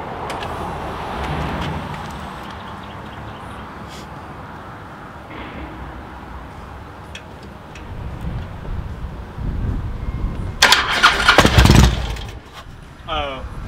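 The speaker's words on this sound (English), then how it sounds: "I know it'll make it spin over. I just don't know if the computer will let it start" A Harley motorcycle engine turns over on a hot-wired starter during a security-delete rebuild, with a low cranking rumble that builds near the end, mixed with wind noise and nearby talking.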